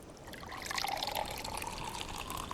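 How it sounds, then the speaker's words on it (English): Water poured into a mug in a quiet room, a soft close trickle that swells and settles into a steady gentle filling sound, faint overall with no talk. "could you use some of your water magic to fill my mug?"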